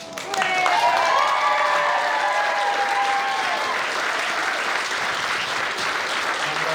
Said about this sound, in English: A massive round of applause for the stars of the show.